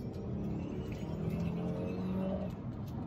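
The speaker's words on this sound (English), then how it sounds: "Hear the turbo?" Turbocharged engine of a 2000 Saab 9-5 Aero, a muffled interior drone with a faint rising whine as the car pulls, heard low and steady from inside the cabin.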